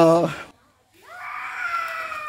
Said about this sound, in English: you can hear the noise of a child in the background